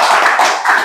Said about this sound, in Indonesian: beri tepuk tangan untuk saya dulu